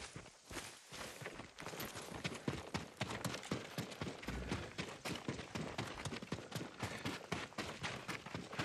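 Horses' hooves clip-clop in a steady, dense rhythm throughout, loud and close, from the Ghost of Tsushima game with no voices over them.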